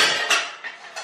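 A metal pressure cooker lid clanks shut and the pot is set down on a kitchen stove, giving a few close, bright metallic knocks and scrapes that fade over about a second.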